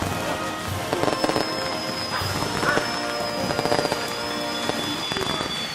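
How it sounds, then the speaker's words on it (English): A small firework goes off inside a house, giving a string of sharp crackling pops over a thin continuous hiss and whistle, fairly close but modest in loudness. "Oh, but it's a baby firework."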